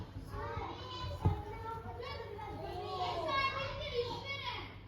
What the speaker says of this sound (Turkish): Bir de parktaki çocukların sesleri gelmese süper olacak.